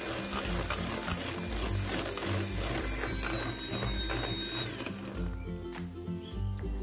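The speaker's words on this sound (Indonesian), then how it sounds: "lalu mixer dengan kecepatan tinggi hingga putih kental dan berjejak" An electric mixer whips egg whites and sugar at high speed, a dense continuous whirring with a rattling beater texture. It runs steadily throughout and thins slightly near the end.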